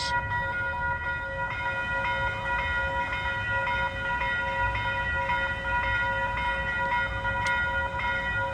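A Metro-North M7A commuter train rumbles steadily past a level crossing at close range while the crossing bell rings continuously in a high, even rhythm.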